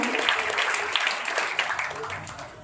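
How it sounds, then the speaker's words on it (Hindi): A small group at a family prayer meeting claps hands together briefly, a close, slightly uneven patter of applause lasting a few seconds, with no voices over it. "तो निवृत्ति के लिए ताली बजाएंगे"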